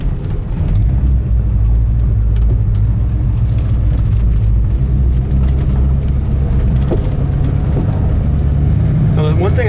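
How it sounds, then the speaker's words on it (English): Car passing on the left beside a 1972 Chevy Nova with a 200-R4 four-speed automatic, heard as a rumbling drive noise with road roar, under a voice. "Got a car coming to your left."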